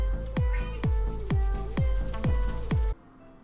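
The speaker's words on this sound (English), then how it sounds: "Cat." A cat meows repeatedly, about seven or eight short rising-falling cries in a steady rhythm, close and fairly loud over a constant background tone, then stops abruptly.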